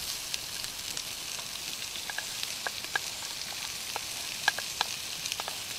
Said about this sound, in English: That oil's hot enough. We'll get a bit of veg in.